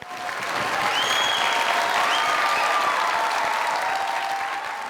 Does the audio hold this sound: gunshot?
no